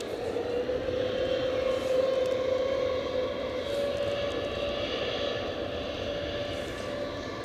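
An airliner taking off at Edinburgh Airport produces a continuous engine roar with a sustained tonal whine, loud and steady, easing off slightly toward the end.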